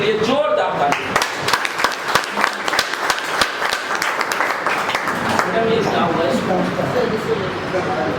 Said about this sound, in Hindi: एक बार कंपनी के लिए जोरदार ताली।